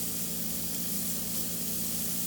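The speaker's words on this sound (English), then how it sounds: "It should sizzle, so it's not that hot yet, but yeah, see the sizzle, you're hearing that?" Ground meat browning in a pan for dolmas, a soft, steady sizzling hiss with no voices over it, moderate in level and unchanging throughout.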